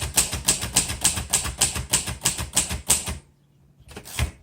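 Typing on a 1949 Royal Arrow manual portable typewriter, about a dozen crisp, close key strikes in a quick even rhythm, then a brief pause followed by a couple more clacks.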